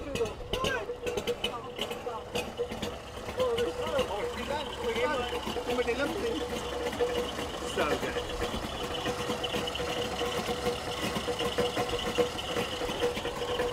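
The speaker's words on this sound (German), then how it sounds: "Das ist noch der schöne Wartburg-Klang." A Wartburg 311 car with a modified 1000 cc engine idles with a steady, busy mechanical drone close by, while people talk over it throughout.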